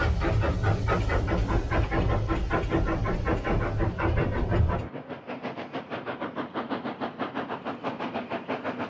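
A steam train chuffs and hisses loudly, the hiss cutting out midway to leave a steady, rhythmic chuffing as it rolls in.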